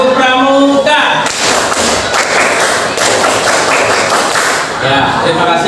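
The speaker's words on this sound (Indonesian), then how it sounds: "Sekali lagi, tepuk pramuka" Students in a classroom repeat the Indonesian scout clap, sharp rhythmic group claps in a dense patterned burst of several seconds, framed by brief speech before and after.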